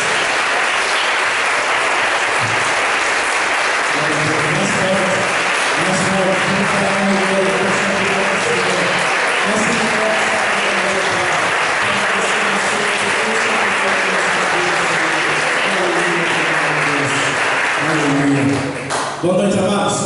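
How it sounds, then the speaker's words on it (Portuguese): Congregation clapping at a worship service for a praise ministry, steady and loud across the whole stretch, with music or voices mixed in beneath the applause. "Aplauda mais uma vez, em nome de Jesus."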